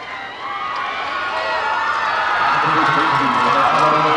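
Baseball crowd applauding and cheering at a 1995 game between the Colorado Silver Bullets and Hollywood Star Sox, building steadily louder over a few seconds with a commentator talking over it.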